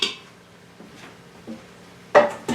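A spoon taps against the rim of an Instant Pot in a few sharp metallic knocks, with a louder clatter near the end, set against a quiet kitchen.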